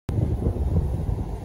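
Seaside wind at Çeşme rushes over the microphone as a dense low roar that starts abruptly and holds steady for a second and a half, with no voices.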